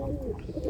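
Pigeons in a loft give a short, low, continuous cooing, close and moderately loud, with no voices.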